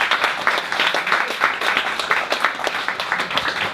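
Steady applause from an audience at a DevOps meetup gathering in Boston, dense overlapping claps at an even level throughout without a break, with no talking above it.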